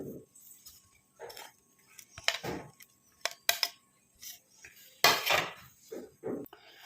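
Banana pieces are dropped into a mixer jar while making a summer tan removal pack, giving a series of light knocks and clinks of fruit and utensil against the jar, close and fairly quiet.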